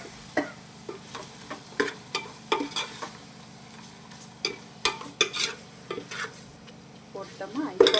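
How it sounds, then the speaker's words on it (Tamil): A handful of mint leaves being stirred into chicken biryani in a pot, with irregular scraping and clinking strokes of the spoon over a low, continuous sizzle, close up and with no talking. "ஒரு கையளவு புதினா போட்டு கிளறுங்க."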